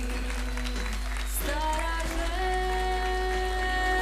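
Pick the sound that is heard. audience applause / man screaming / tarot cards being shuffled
audience applause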